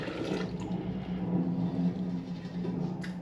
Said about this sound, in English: And I'm going to actually pour this into the pan.